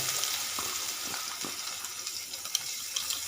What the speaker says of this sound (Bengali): পেঁয়াজটাকে এবার একটু আমি বাদামি করে ভেজে নেবো